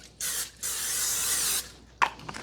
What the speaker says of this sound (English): I'm going to lightly spray my 11 by 13 pan with just a little bit of olive oil spray